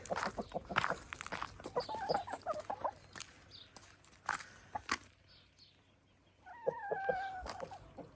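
Chickens on a village farm cluck in scattered bursts nearby, with a few drawn-out calls toward the end over a quiet background.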